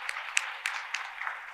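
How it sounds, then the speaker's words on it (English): A meeting audience gives a small round of applause for Tennessee, thin scattered claps with a few sharper individual hits, fairly quiet and spread across a short stretch. "So another round of applause for Tennessee there."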